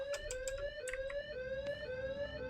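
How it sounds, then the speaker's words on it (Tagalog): A hidden door alarm in the horror game Evil Nun rings out, a two-tone electronic warble alternating in a steady rhythm, close and fairly faint with a few short clicks over it. "Oh no, there was a hidden alarm."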